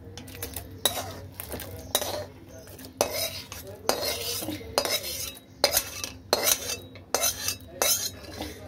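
A cooked paneer dish with green peas and potato is scraped and tipped from a metal pan, with repeated spoon clinks and scrapes against the pan in an irregular rhythm, close by, with no talk.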